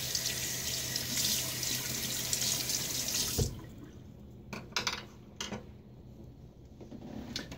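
A tap runs steadily to rinse a safety razor during a wet shave, a loud continuous splash that cuts off abruptly, followed by a few close knocks and taps against the sink.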